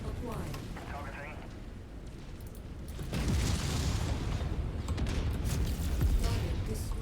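An enemy hovercraft bursts apart in a deep, rumbling explosion in the MechWarrior 5 video game, a sustained roar swelling midway and continuing loudly to the end over steady game noise.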